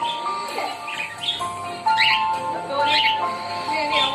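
A pet bird chirps and twitters in short, bright bursts, close and clear, with tonal whistles mixed in and no talking over it.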